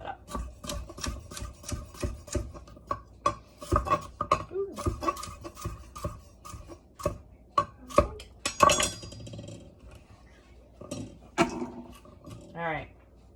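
A knife chops through a thick carrot on a cutting board in an irregular run of sharp, close knocks, some quick bursts and some spaced apart, with a brief scrape near the end.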